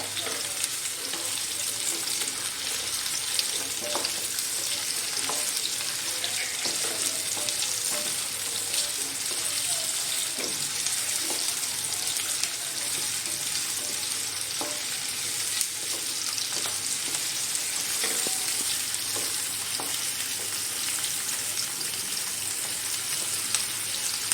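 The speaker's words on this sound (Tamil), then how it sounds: "இந்த வெங்காயம் ப்ரௌன் கலர் ஆகுற வரைக்கும் வதக்குங்க" Onions sauté in a pan until brown for a country chicken pepper fry, with a constant, dense sizzle that stays close and even throughout.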